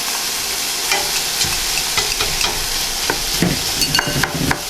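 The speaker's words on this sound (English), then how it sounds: "And we'll just scrape the rest of those in." Split peas are scraped into a pot for split pea soup. Light scraping and stirring scrapes sound over a soft sizzling background, close and moderately loud, with no talk.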